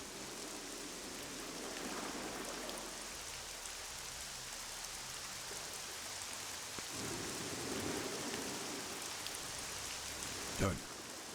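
Steady, dense rain pours throughout in the video game Battle Realms, with a low rumble underneath and one sharp crack near the end; a voice murmurs faintly beneath it.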